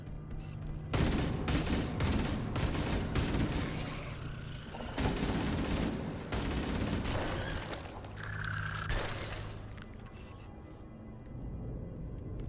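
Explosions and bursts of gunfire from a Halo campaign battle crack and boom in rapid irregular volleys, loud and dense at first, then easing into scattered shots and rumble.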